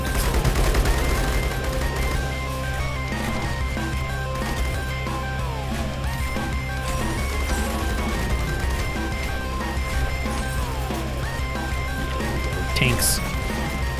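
Biplane towers in the Rogue Tower video game fire at enemies in a dense, continuous patter of rapid gunfire and small blasts, layered over steady game music with a loud burst near the end.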